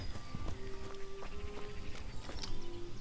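A horse's hooves clop along at a walking pace in the Kingdom Come: Deliverance video game, with a soft, regular rhythm of muffled steps over faint background tones.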